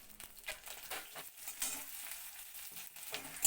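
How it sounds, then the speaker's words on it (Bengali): Onion, crushed garlic cloves and two green chillies fry lightly in a pan for cabbage bhorta, a soft close sizzle with faint stirring scrapes and utensil taps, no voices. "দেখো পেঁয়াজ, রসুন, কাঁচা লঙ্কাটা আমার হালকা ভাজা হয়ে গেছে।"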